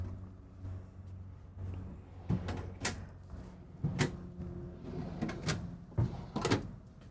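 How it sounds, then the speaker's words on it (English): Soft-close drawers sliding shut inside a 2023 Renegade Verona LE 40LRB RV camper, several soft thuds and muted bumps spaced through the room with no talking. "So nice soft closed drawers."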